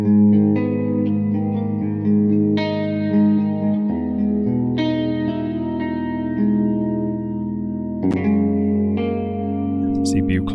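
A sustained instrument plays held, changing notes drenched in lush reverb from the FabFilter Pro-R 2 plugin, the tones swelling and lingering with a long echoing tail.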